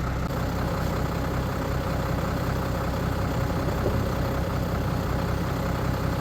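A tractor engine idles close by with a steady, low mechanical rumble that holds unchanged throughout, with no voices over it.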